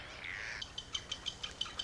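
Seabirds calling on Cocos Island, a remote ocean island with cliffs and trees: a series of short, bright chirping calls repeating at an irregular rhythm over a low rumble of wind and surf.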